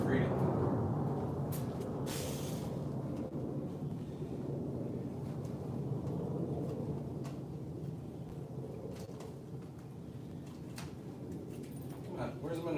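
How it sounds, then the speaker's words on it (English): F-35 fighter jets pass overhead as a faint, distant, continuous low roar under a person talking nearby. "That's the sound of F-35s spreading freedom."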